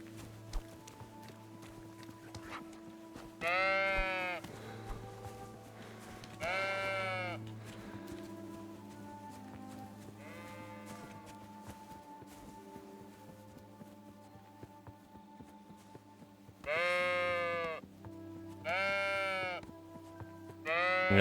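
Sheep bleating in the medieval video game Kingdom Come: Deliverance II, several separate wavering bleats spaced out over a constant background hum, with faint footsteps between them.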